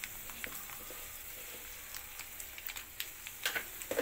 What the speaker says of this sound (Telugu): ఆవాలు చిటపట్ల అంటున్నాయి